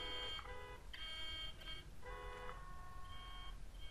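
Phone ringing in Mafia 2, heard as repeated electronic beeping tones in short bursts over a steady low background hum, with no talking.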